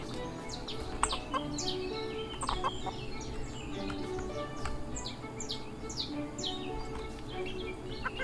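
Several chickens in the video game Everdream Valley cluck and chirp in quick, scattered calls over a steady low background hum, moderately close.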